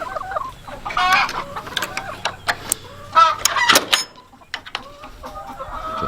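Chickens clucking and squawking inside a livestock barn chicken coop, several birds close by with irregular bursts of clucks and calls over a low background hum.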